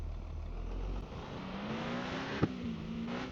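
A car engine drones steadily in Car For Sale Simulator 2023, a smooth mid-level hum with a slowly rising whine and a single sharp tick partway through, with no speech.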